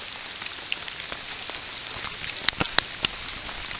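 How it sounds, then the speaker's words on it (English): Steady rain pattering on gear and forest ground in the cold, wet Mark Twain National Forest, a dense hiss dotted with sharp individual drops close by, with no voices. "It's raining, it's cold."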